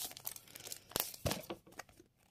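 A collectible football card pack is torn open close up, with sharp ripping bursts and crinkling foil wrapper, alone and without talk.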